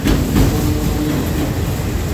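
Underpowered Norfolk Southern freight train 18N, led by locomotive NS 8002 with mixed stock including CN and CP cars, rolling through Jeanette, Pennsylvania; a steady, loud rumble of passing railcars with faint wheel clatter, no talk.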